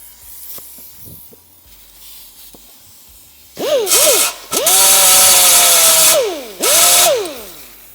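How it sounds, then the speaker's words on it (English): Hard, thick grinding wheel knocking down MIG weld tacks on motorcycle bodywork: a quiet start, then three loud, close bursts of whining, hissing grind as the wheel spins up and bites the metal. "So the nice thing about what I call a hard wheel, it's like a thicker cutoff wheel almost, so you can just hit just that tack"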